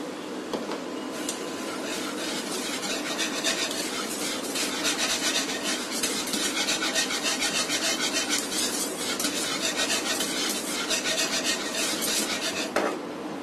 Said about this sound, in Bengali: দুধটা আস্তে আস্তে দিতে হবে আর মেশাতে হবে।